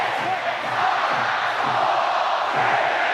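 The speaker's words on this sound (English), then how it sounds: "Listen to the crowd counting down." A stadium crowd at the close of a 2009 rugby league match between Leeds Rhinos and St Helens counts down together, a loud, dense roar of massed voices with rhythmic chanted pulses throughout.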